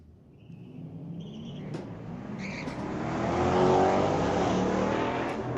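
Corvette and Falcon street-legal cars race down a drag strip at a Friday night event, a steady roar of engines building louder as they pass close, with faint tire noise and wind over the track.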